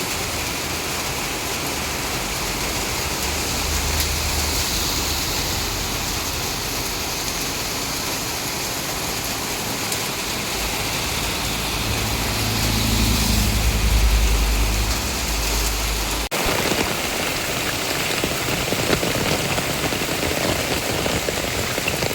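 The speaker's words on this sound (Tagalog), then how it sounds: "Lakas ng ulan." Heavy rain pours steadily in Tacloban City, a dense, loud and continuous hiss with no pauses, briefly swelling midway, and nobody speaking.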